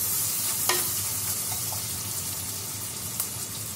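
Onions with half a spoon of salt sautéing in hot oil with tempered mustard seeds, cumin, fenugreek and curry leaves for a crab curry. A loud, steady sizzle sounds up close, with a few clinks of stirring.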